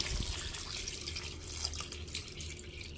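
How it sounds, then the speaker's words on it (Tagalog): Water splashes and trickles steadily into a cooking pot for chicken tinola, a soft, continuous pouring sound with no talk. "Takluban, lagyan ng tubig."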